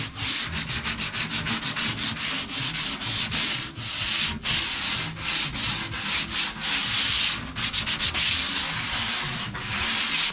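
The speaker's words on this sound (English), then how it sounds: "if I just take a bit of sandpaper just to take the arris off either side" Sandpaper rubs back and forth along the edge of a wooden door being hung, a steady rhythmic scratching with brief pauses, close and loud, with no talking.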